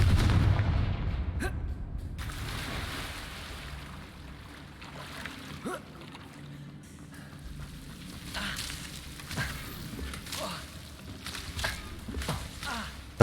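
Confringo spell explosions in the Hogwarts Legacy video game burst as a series of rumbling booms and cracks, scattered irregularly over a low continuous rumble at moderate loudness.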